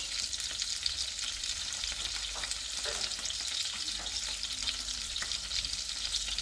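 Trout fillets with orange zest fry in a pan, giving a steady, even sizzle with light crackles and an occasional stir, close and moderately quiet, with no voices.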